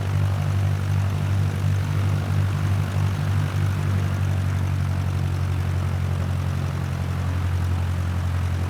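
A Cessna 152 propeller trainer taxiing at a flying school, its piston engine and propeller droning in a steady, loud, close hum with no pauses.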